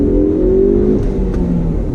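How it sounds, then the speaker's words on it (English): A 2018 Ford Focus ST's turbocharged engine pulls hard under acceleration, a loud, close, steady engine drone heard from inside the car. "The engine, I'm telling you, the boost, doesn't it have a nice feel to it when it's going?"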